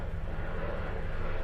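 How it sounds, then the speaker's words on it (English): Distant airplane passing overhead, heard as a steady, faint broadband roar with a low rumble that holds evenly throughout, with no talking. "Hold on, there's an airplane."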